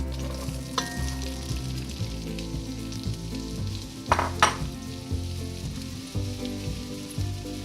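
Onion frying in olive oil in a pan for a vegetable pot pie, giving a steady close sizzle with occasional stirring clatter and no talking.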